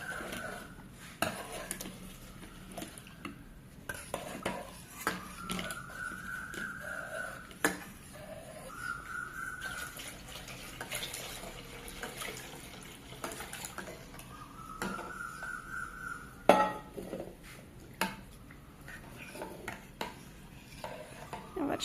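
Spoon stirring milk sharbat flavoured with fennel and cardamom powder in a metal vessel, quiet scattered clinks and scraping taps spread over the stretch, with faint short tonal rings in between.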